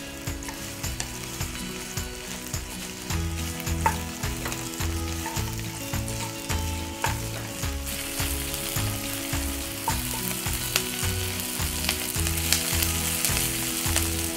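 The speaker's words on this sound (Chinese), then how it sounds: "炒到半透明，把它起锅备用。" Onions stir-frying in a pan over moderate heat until translucent: a steady close-up sizzle with occasional stirring, running continuously under background music.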